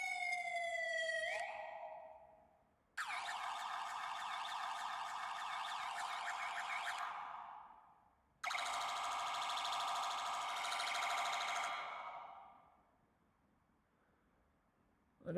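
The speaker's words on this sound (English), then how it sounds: "just plays the siren" A police siren plays from a phone app, electronic wails and yelps in three long passes separated by brief gaps, thin and fairly faint.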